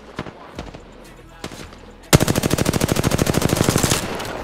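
Gunfire in the video game Apex Legends during a ranked arena match: a few scattered single shots, then a loud, rapid automatic burst of evenly spaced rounds lasting about two seconds.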